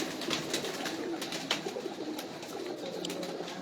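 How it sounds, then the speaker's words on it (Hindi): Pigeons cooing and calling at a rooftop loft as a flock of old-breed flying pigeons is released, a steady low chorus of coos with wing flutters and outdoor background noise, no talk. "ये दोस्तों उड़ने वाले कबूतर दिखा रहे हैं आपको"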